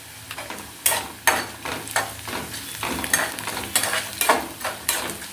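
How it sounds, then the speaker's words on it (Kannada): Potato palya masala being fried and stirred in a pan, with a steady sizzle under rhythmic spoon scrapes and knocks against the pan, close and fairly loud, with no voices. "ಚೆನ್ನಾಗಿ ಒಂದು ಸೆಕೆಂಡ್ ಫ್ರೈ ಮಾಡಿ ಆಲೂಗಡ್ಡೆ ಹಾಕಿ"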